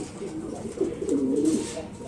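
Soft, low cooing from black Bombay pigeons, a few burbling phrases that swell in the middle, heard up close over faint background noise.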